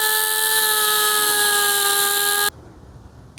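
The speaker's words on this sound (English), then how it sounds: "I'm just going to take my die grinder with my 80 grit flap disc and just start grinding on both sides" A die grinder with an 80 grit flap disc grinds on starter shims, a loud, steady high-pitched whine with sharp tonal bands that runs for about two and a half seconds and then cuts off abruptly.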